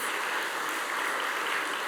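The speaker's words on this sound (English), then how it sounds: "Let's give a round of applause for the young innovators." Applause from an audience at an awards celebration honouring young innovators, a steady dense wash of clapping heard from a distance, moderately quiet and sustained with no voices over it.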